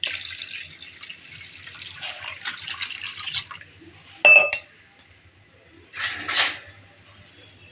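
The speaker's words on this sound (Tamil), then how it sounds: "நம்ம ஒரு சொம்பு அளவுக்கு தண்ணி ஊற்றிக்கலாம்." Water poured from a small pot into a palm fruit (nungu) juice mixture with sugar, a continuous splashing pour followed by a few sharp clinks of a vessel and a short second splash, fairly quiet.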